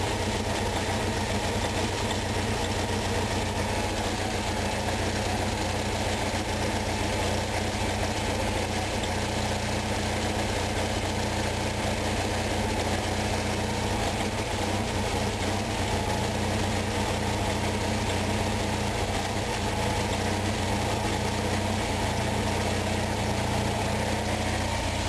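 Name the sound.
Onan engine running after carburetor adjustment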